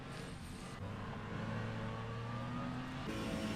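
A Porsche race car in a racing sim game revs with a faint, steady engine drone and whirring tone that shifts pitch slightly midway, distant and even, with no one talking.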